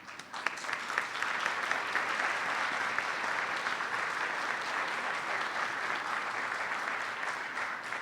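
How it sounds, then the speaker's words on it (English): Sustained applause from a graduation ceremony audience, with dense steady clapping filling the hall for several seconds at moderate distance and no speech over it. "the graduates can give you an applause"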